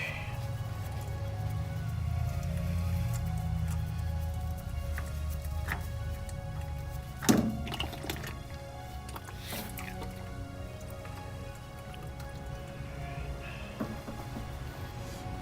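Motor oil draining from an engine and dripping into a pan, a steady trickling wash with scattered drips and a few sharper clinks, close by with no talk.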